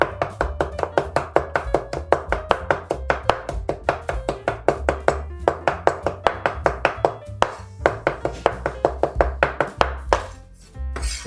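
A knife chops food on a board in a fast, steady rhythm of crisp, close, loud knocks, dozens of strokes with a brief pause near the end, with no talk.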